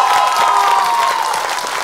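Studio audience applause at an Armenian comedy league semifinal, a dense, steady wash of many hands clapping close and loud throughout, tapering only slightly at the end.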